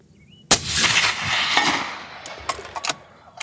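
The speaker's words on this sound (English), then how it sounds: "we'll put just a couple rounds through it." A single sharp gunshot fired at a range, a loud crack followed by a long echoing decay, then faint clinks.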